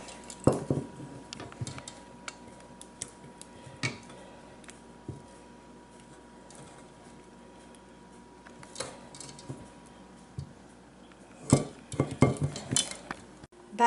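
A spatula stirs banana pudding in a pan, giving soft scraping and squishing with scattered clinks against the metal, a few louder scrapes near the end, with no talk.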